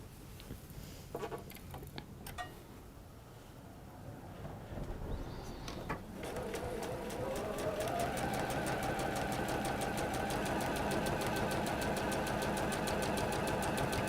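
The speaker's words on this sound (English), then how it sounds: "And then sew your triangle onto the opposite side." A sewing machine stitches a quilt triangle onto the side of a block, starting with a few short bursts and then running steadily with a fast, even needle rhythm, close and fairly loud.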